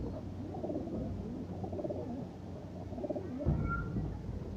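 Pigeon cooing from black-eyed pigeons, soft repeated low coos close by in a loft, with a brief faint whistle-like call near the end.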